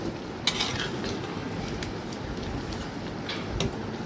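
Fish curry stirred in a pot, with a soft continuous simmering hiss and a few light utensil clinks and scrapes against the pot, quiet and close, with no talking.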